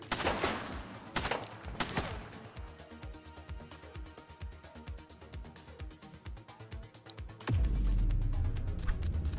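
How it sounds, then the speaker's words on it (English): Video game gunfire cracks in rapid, uneven bursts of sharp shots for several seconds, then gives way to a heavy, low rumble near the end. "He's shooting!"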